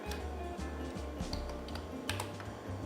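Code being typed on a computer keyboard makes a quick run of close key clicks and thumps at an uneven rhythm, alone and fairly quiet.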